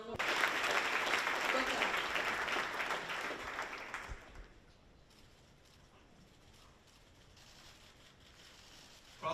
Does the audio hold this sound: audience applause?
yes